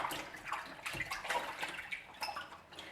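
Glasses being washed by hand in a sink of lukewarm water with an ENJO cloth, giving soft, faint, irregular splashes and sloshing with small clinks.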